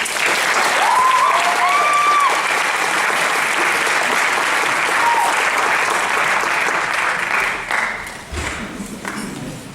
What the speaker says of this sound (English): Please give a warm round of applause to Mr. Tyrus Levis and Mr. John Solomon.